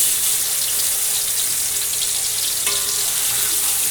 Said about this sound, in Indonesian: ini minyaknya udah panas, langsung aja kita tumis bumbu-bumbu yang udah kita blender tadi